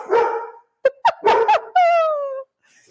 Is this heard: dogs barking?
yes